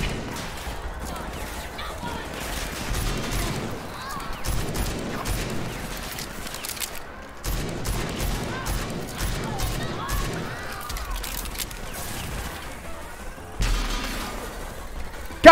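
Rapid gunfire from a Gatling gun in the video game Rage 2, sounding as bursts of fusillade-like shots amid other combat noise. A player talks over parts of it.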